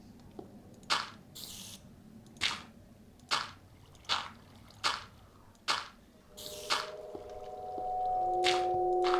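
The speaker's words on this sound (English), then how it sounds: "Okay, I hear a spider." Minecraft spider noises: wet, squishy clicks repeat at a steady pace, then a low eerie hum swells in and lingers beneath them.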